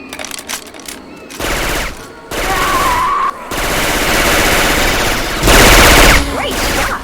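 Syphon Filter weapon sounds replacing the guns in Left 4 Dead 2, loud bursts of rapid automatic fire in several long volleys with short pauses between them, close and dominant.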